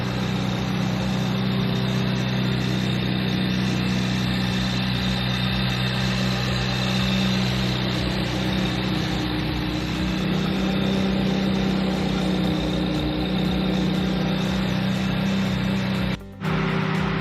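A 2014 Ferrari 458 Italia engine idles steadily with a low, even hum and faint vibration, unchanging throughout until a brief dropout near the end.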